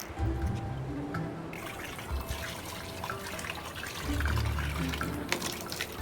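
Water running and splashing in steady broadband noise through the whole stretch, with scattered bright spatters and low rumbling bursts, during play by children named Porter and Cassie.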